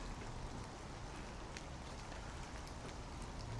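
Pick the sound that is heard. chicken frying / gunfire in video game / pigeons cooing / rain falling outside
rain falling outside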